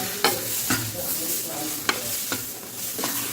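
Mango pulp mixed with fine semolina is sautéed over low heat in a pan. A soft sizzle runs underneath while a spoon scrapes and knocks against the pan in about five distinct strokes, spaced roughly half a second apart.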